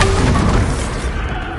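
A deep, booming blast from the Bombarda spell in a wizard game, loud and close, decaying into a rumbling tail over about a second and a half.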